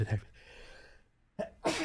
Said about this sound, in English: I'm gonna sneeze in a second